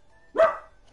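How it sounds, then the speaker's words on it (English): A single short dog bark, fairly faint and slightly distant, rising abruptly and fading within half a second against a quiet background during a live gaming stream. "If he keeps barking, I'm gonna smack him."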